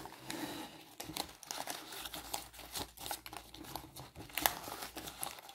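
Oracle cards shuffled by hand give off a busy stream of papery rustles, crinkles and soft slaps, close up and fairly steady for several seconds with no voice.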